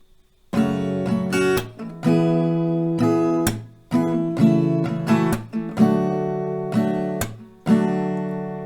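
An acoustic guitar strums through a chord progression, steady downstrokes with quick muted hits between chords, clear and close with no talking.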